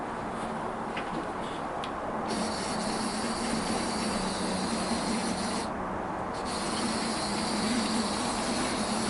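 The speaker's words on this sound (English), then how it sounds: "we've got her pulling a fairly lengthy goods train around the layout" A small model GWR locomotive pulling a lengthy goods train rumbles steadily along its track with a continuous whirring hum and occasional faint high squeals, no voices.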